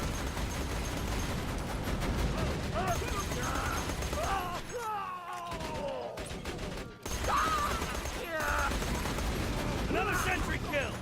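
Sentry turret in the video game Borderlands 2 firing continuously amid dense gunfire and mechanical game noise, loud and unbroken with a short dropout, overlaid by game music and effects.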